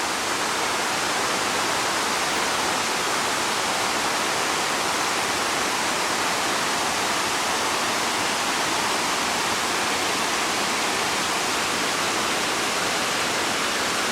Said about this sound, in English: Waterfall to our left.